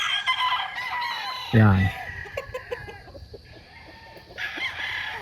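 Chickens on a farm cluck and crow, with one loud crow standing out near the start amid steady background clucking, while someone talks over them.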